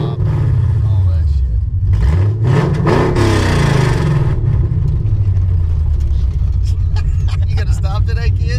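A Ford Coyote V8 car with open headers accelerates hard, its loud deep engine roar rising and falling through gear changes and rumbling close by, while people talk over it.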